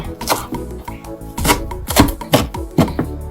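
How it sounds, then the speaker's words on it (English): A knife chops fresh parsley on a cutting board in a home kitchen, about eight close, crisp taps in an uneven rhythm, with no talking. "We're gonna go ahead and cut up our fresh parsley."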